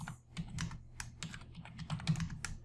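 Rapid keystrokes on a computer keyboard while a document name is entered into an online application form, an uneven run of close, clicky taps with no talking.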